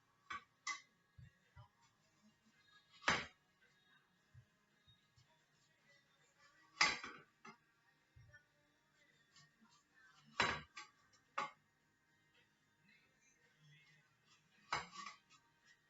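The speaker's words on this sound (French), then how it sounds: "Je viens découper mon oignon" A kitchen knife slices an onion into very thin rounds on a cutting board, giving a few sharp, well-spaced taps against the board with faint, softer clicks in between.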